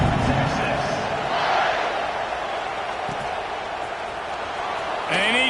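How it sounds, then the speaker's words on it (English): A stadium crowd buzzes after a score in a college football video game, a dense steady roar throughout with a commentator talking over it. "this crowd is buzzing after that last score"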